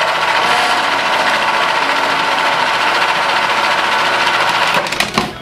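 A food processor blends fresh garden basil in one last short pulse, a loud steady motor whir running continuously for about five seconds before cutting off with a brief rattle at the end.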